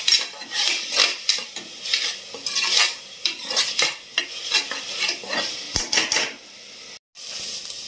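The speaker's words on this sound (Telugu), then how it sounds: "ఆ టైంలోనే ఉల్లి ముద్ద వేసి వేపండి బాగా." Onion paste fries in a pan while being stirred steadily, with a busy crackling sizzle and repeated scraping and clanking of a metal spoon against the pan, close and lively, with one brief dropout.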